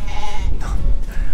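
Lambs bleat loudly and close by on a sheep farm as heavy lambs are run through for sale, overlapping calls from several animals filling the moment with no talk.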